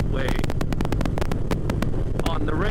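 Loud, constant wind roar buffets the microphone with rapid gusty thumps while riding a motorcycle at 80 miles an hour on a freeway, heard inside a Simpson Speed Bandit helmet; a voice talks underneath.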